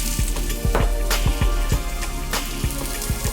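Squash and zucchini sizzle with onions in a hot pan with olive oil, a loud close frying hiss broken by frequent sharp pops and spatters in an irregular rhythm, without any talking.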